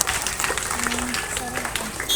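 An audience at a village birthday program honoring Savitribai Phule breaks into brief applause, a dense patter of clapping hands that fills the short moment at moderate volume.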